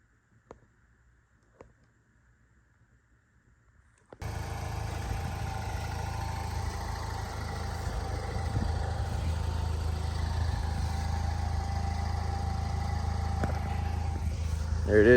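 A Chevrolet HHR SS, just repaired with a new clutch and timing chains, stays silent for about four seconds, then its engine fires up and settles into a steady, smooth idle with no other sounds around it.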